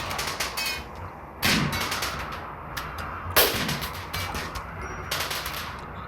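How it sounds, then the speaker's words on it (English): EMP grenades detonating in a Rimworld colony battle, with sharp crackling bursts and repeated rapid pops, two louder blasts standing out over steady gunfire-like clatter. "So that's what the EMP grenades do."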